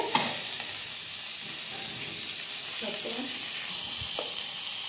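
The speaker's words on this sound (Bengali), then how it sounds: "একটু ভাজা হবে" Ghetkol stalk and leaf paste fries in oil with a constant bright sizzle and hiss, broken by a few soft stirring scrapes and taps, close and steady with no speech.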